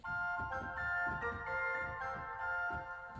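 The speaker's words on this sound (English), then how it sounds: "2-foot flute" A 2-foot flute stop on the pipe organ of the Bovenkerk in Kampen sounds high, sustained tones with a soft pulsing texture, fairly quiet and alone.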